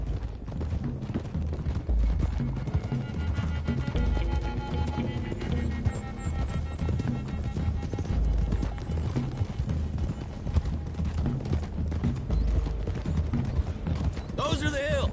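Horses gallop with steady clip-clop hoofbeats in the Red Dead video game, running continuously under game music and ambience, with occasional character speech over the top.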